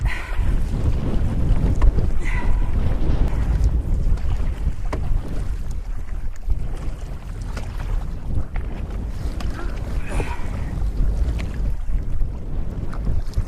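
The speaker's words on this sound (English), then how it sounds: "You can probably hear the wind." Strong wind buffets the microphone with low, gusty rumbling, alongside faint water sounds outdoors on a canoe camping trip.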